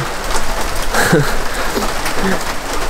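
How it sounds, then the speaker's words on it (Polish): Rain patters loudly and steadily on a tent during a hitchhiking trip in Australia, a dense close drumming that fills the whole stretch, with a faint bird-like chirp briefly in the background. "Już zapomniałem, jak to jest fajnie, jak od rana pada deszcz."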